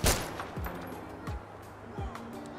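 Several gunshots fired in a FiveM roleplay server of GTA V, near a camera, come as three or four sharp, fairly close cracks spaced about a second apart, each with a low thump, over a quiet game background.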